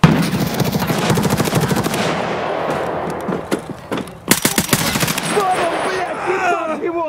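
Rapid automatic gunfire in a video game, loud dense bursts of fire with a short break, then more sharp shots, with a voice talking underneath.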